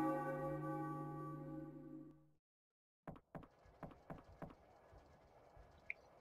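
A church bell in the Final Fantasy IX video game rings with a sustained, ringing tone that fades out, followed after a short pause by a series of sharp tapping knocks.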